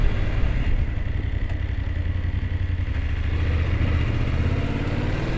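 A motorcycle engine idles steadily and close by as the bike is maneuvered into a small parking space on a street in Carcassonne, France, a low rumble with a light mechanical clatter and no talk over it.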